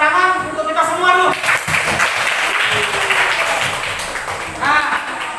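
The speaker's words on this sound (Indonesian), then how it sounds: "Tepuk tangan untuk kita semua dulu." Classroom applause from students at the close of an Indonesian-language lesson, a dense, steady patter of many hands clapping for several seconds, with voices calling out over it near the start and end.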